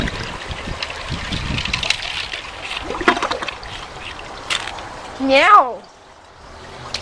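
A 1999 Cisa toilet flushes with twelve table tennis balls and washcloths in the bowl, giving a rushing then trickling water sound with a brief squeaky gurgle near the end; a voice speaks briefly.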